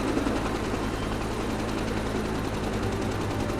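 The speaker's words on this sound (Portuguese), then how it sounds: "nós ouvimos o barulho de helicóptero." A rescue helicopter flies over a remote Amazon rainforest campsite, its engine and rotor producing a steady, loud, continuous drone with rapid rhythmic chopping throughout.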